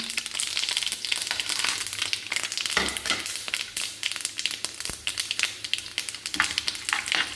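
Mustard seeds and cumin sizzling in ghee, a steady loud crackling fry with rapid popping and spitting throughout, close and continuous.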